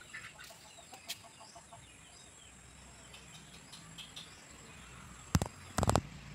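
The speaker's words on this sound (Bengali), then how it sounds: "মুরগির খোয়ারের ভেতরে ঢুকে ছোট মুরগির" Chickens in a village coop as a young bird is grabbed, soft scattered clucks through the clip, then sharp loud squawks and flapping bursts toward the end.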